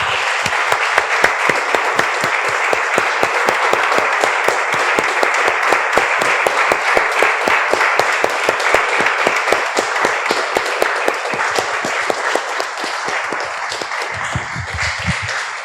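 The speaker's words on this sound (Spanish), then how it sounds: "Damos un aplauso, hermanos." A church congregation applauds, a dense, steady wash of many hands clapping that holds for several seconds before thinning out and fading near the end, with no voices over it.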